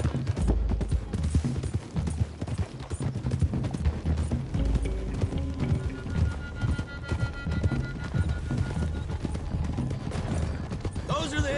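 Horses gallop in Red Dead Redemption 2, a busy, continuous clatter of hooves with a whinny and scattered gunfire mixed into the game's rolling soundscape.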